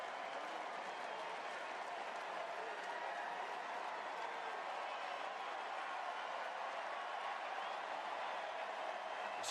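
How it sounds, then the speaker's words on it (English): A football stadium crowd at a Kansas State versus Oklahoma State game applauds and cheers in a steady, distant wash of clapping and crowd noise that holds evenly throughout. "This crowd showing their appreciation."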